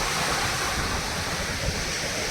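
Sea waves break on the shore in a continuous, loud, dense wash of surf, with no voices heard.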